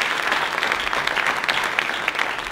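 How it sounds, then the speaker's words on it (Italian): Steady, dense audience applause in a hall during a World Space Week event, continuous bright clapping from many hands lasting a few seconds with no talk over it. "gli farei intanto un applauso"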